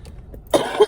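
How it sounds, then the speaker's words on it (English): Two harsh coughs close together, near and fairly loud, following a quiet stretch. "Sorry, I got a cough again."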